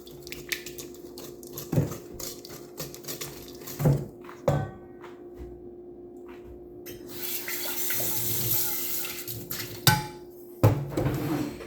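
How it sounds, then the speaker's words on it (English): Whisking cookie batter with 12 tablespoons of melted butter for oatmeal cream pies: a whisk clinking and scraping against a bowl in irregular bursts, with sharper knocks every couple of seconds over a steady kitchen background, no talk. "Then I'm just going to whisk everything together."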